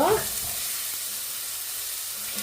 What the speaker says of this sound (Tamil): இப்போ இது இந்த உள்ளி இந்த பச்சை வாசனை போகும் வரையும் வதக்குவேன்